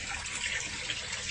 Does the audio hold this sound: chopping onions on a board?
no